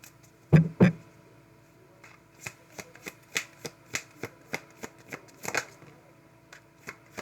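Tarot and oracle cards are handled close up: two sharp riffles are followed by a steady series of soft taps and flicks as the cards are shuffled and cut, with no talk.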